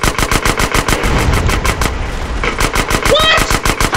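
Rapid bursts of automatic gunfire in the video game Grand Theft Auto: San Andreas rattle loudly and continuously, a fast steady volley of shots with a brief lull in the middle.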